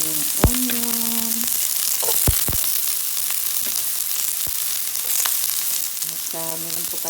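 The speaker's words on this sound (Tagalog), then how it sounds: "Igisa na po natin yung mga sangkap guys." Garlic, onion and ginger sauté in hot oil for a beef bone soup, giving a steady close sizzle and crackle throughout, with a few sharp utensil clinks against the pan.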